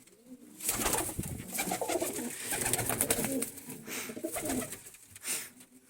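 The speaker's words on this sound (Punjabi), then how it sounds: "ਲੋ ਮਿੱਤਰਾ ਵੇਖੋ ਕਬੂਤਰੀ ਬਈ ਗੋਲੀ ਕਬੂਤਰੀ ਆ" A female pigeon coos close by in soft, repeated throaty rolls that run almost continuously, with no voices over them.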